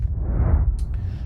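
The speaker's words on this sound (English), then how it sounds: "That's the sound of the sun exploding." The sun exploding in the video game Outer Wilds, a deep, sustained rumbling roar with a swelling low body and a few faint higher flickers, steady and enveloping for a short moment.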